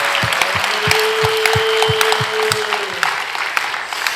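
A congregation at a Korean church revival service claps together in a steady, rhythmic beat of about three claps per second over a sustained musical tone, fading slightly toward the end.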